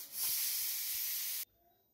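A pressure cooker cooking jeera rice on a gas stove lets out a loud, steady steam hiss that holds for about a second and a half, then cuts off abruptly, leaving near silence.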